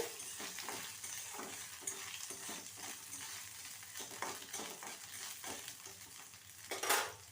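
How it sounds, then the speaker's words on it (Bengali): Grated coconut is stirred in a frying pan while making bottle gourd leaf rolls: a steady sizzle runs throughout, broken by repeated scraping strokes of a spatula against the pan and a sharper metallic scrape near the end. "আর দিয়ে দেবো কিছুটা নারকেল এগুলোকে একটু নাড়াচাড়া করে"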